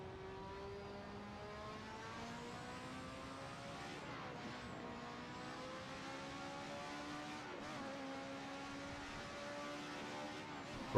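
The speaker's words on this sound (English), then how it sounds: "This time we're racing a Lotus 9080, made famous by none other than Ayrton Senna" A Lotus 98T Formula race car in the Assetto Corsa racing game, its engine droning steadily with rising and falling pitch through gear changes, loud and continuous, with a sharp burst at the very end.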